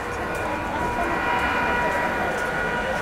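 Lalgola local train, an ICF rake from the Ranaghat car shed, standing at the station, filling the air with a loud, steady rumble and crowd noise and no clear speech.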